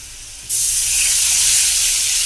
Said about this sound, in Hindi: तो मैं यहाँ पर डाल रही हूँ ये 1 गिलास पानी